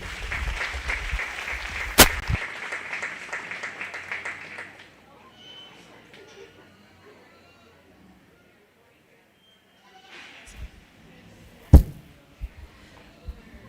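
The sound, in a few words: audience applause at a 4-H/FFA goat show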